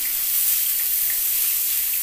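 Grated cauliflower frying in a pan with panch phoron and ginger, a steady bright sizzle and hiss throughout, close and continuous with no talk.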